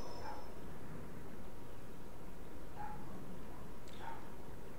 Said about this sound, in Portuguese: O cachorro está latindo, parece que está sendo maltratado.